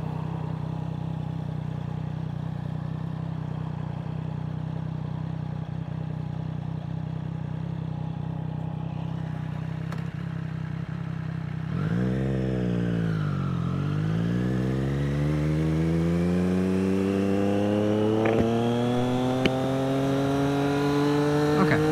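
A 2024 Triumph Street Triple RS motorcycle rides along with a steady engine drone, then shifts down and revs up repeatedly, its pitch climbing through successive gears loud and close under wind noise.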